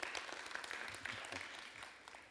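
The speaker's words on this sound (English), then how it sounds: "Can you just kind of clap your hands?" Scattered clapping from an audience at a keynote talk, fairly faint and thin with some murmuring underneath, tapering off after a couple of seconds.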